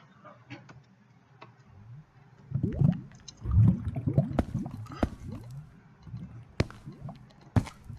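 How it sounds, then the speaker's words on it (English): Liquid bubbles and gurgles in a Thaumcraft room in Minecraft, with irregular wet pops and drips that cluster in the middle and return as scattered sharp blips, moderately loud with no talk. "I think that bubbling sound you folks are hearing is our Thaumcraft room, or maybe my octuple compressed cobblestone setup."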